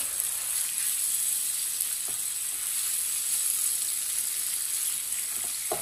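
Okra lightly frying in a pan with crushed raw mango gives a steady, close sizzle that hisses evenly throughout, broken only by a couple of faint utensil taps.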